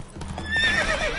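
Roach the horse in The Witcher 3 video game, a brief burst of hoof clip-clops followed by a loud neigh rising over them, close and alone.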